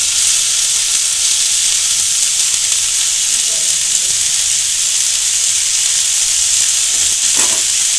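Boiled water spinach with garlic fries in a pan, producing a loud, steady sizzling hiss that holds evenly throughout with faint stirring touches underneath.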